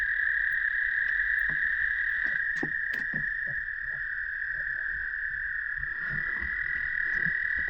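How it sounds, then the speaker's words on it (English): Spring peeper frogs call steadily from a wet, mucky spot, a continuous high shrill chorus that runs unbroken, with scattered faint rustles and handling noise close by underneath. "Hard to find little peepers."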